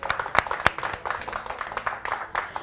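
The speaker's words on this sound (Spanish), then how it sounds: "Merece un aplauso" A studio audience on a television talk show claps in a dense, steady ovation with a few sharper individual claps standing out, continuous throughout.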